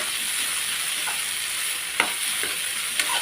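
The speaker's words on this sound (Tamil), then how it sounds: "தேங்காய் போட்டு ஒரு கிண்டி விட்டுருவோம்." Grated coconut is stirred into a chow chow masala stir-fry in a hot pan, with a few soft spoon scrapes over a constant frying sizzle, close and steady.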